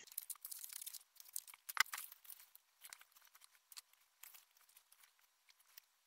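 Faint, close cutting and crinkling of cardboard as template pieces for a homemade scrapbooking Advent calendar are cut out, in irregular soft snips and rustles with one sharper snap.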